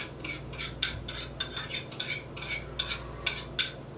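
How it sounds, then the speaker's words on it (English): A spoon scrapes and taps against a dish while marinade is spooned onto a salmon fillet, giving soft wet clinks in a loose rhythm of roughly a dozen strokes, close and fairly quiet, with no talking. "I'm just going to spoon this marinade right on top."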